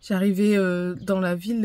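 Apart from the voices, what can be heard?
No distinct noise like a dog, phone or traffic.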